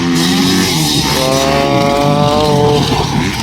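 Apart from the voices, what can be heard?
racing motorcycles, 450 versus 125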